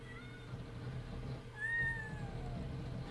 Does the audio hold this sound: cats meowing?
yes